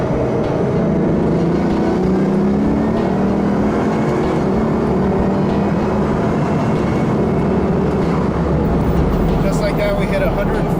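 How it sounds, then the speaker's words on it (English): A 2011 Bugatti Veyron Super Sport accelerating hard, a loud continuous engine roar with rising tones that dominates throughout, overlaid by someone speaking. "When you step on the acceleration pedal, on the gas pedal, the thing just goes."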